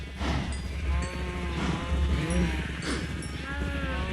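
Minecraft sheep bleat several times in wavering, nasal calls that overlap against a steady game background, loud and close, with no talk.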